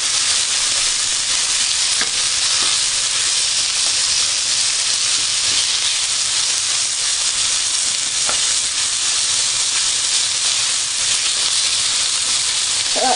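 Stir-fry vegetables for a turkey stir fry sizzle in a pan, a steady loud hiss and crackle throughout with a few faint clinks and no talk.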